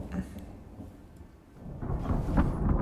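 Thunder rolls during a storm, a low rumbling that eases and then swells louder in the second half, with a faint rain-like hiss beneath and no voices.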